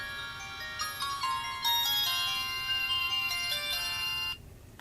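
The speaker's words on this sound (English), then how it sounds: "Mobile phone." A mobile phone ringtone plays a bright, melodic electronic tune for about four seconds at moderate volume, alone without talk, then cuts off abruptly.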